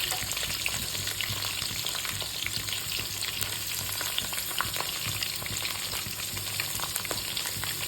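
Onions with mint, green chillies and curry leaves frying in a pan for a kulambu, giving a steady, close, crackling sizzle with faint stirring, no voices.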